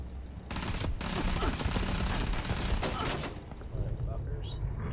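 Rapid bursts of gunfire in a spaceship combat video game, loud, dense and continuous, with sharp repeated shots and brief breaks, while someone shouts over the fighting.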